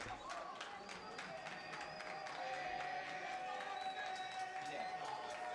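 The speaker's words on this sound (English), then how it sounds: "Crowd cheering on for Memorial here." Crowd noise with cheering and scattered claps rises steadily through a high school baseball game, Memorial facing St. Peter's Prep, a constant near wash of voices with no single announcer over it.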